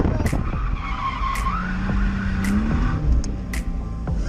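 A BMW drifting at a drift event after a clutch kick, tires skidding and squealing steadily with engine revving throughout, fairly loud and close, with a voice talking faintly in the background.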